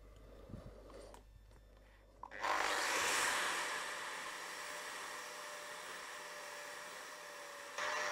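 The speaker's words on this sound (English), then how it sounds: "I'm going to grind off this other weld" Angle grinder with a ceramic P120 disc grinding off a steel weld: a brief quiet handling knock, then the grinder spins up loud and holds a steady, rough high whine, rising again at the end.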